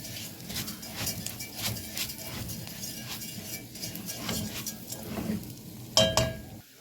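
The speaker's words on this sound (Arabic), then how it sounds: "نزلنا بكوبايه الرز كده وهنقلب كويس" A spoon stirring washed rice into frying potatoes in a pot, with repeated soft scraping and clinking strokes at close range, ending in a sharper metallic clink.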